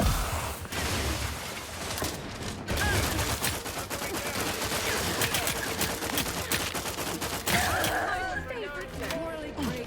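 Sustained bursts of rapid automatic gunfire in The Outer Worlds 2 crackle nearly nonstop for ten seconds, loud and close, with overlapping shots and a brief lull near the start before the firing resumes.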